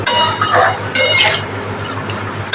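Spices being fried and stirred together with figs in a pan for a potato and fig curry, with close scraping and clinking of the utensil against the pan in short bursts, no talking.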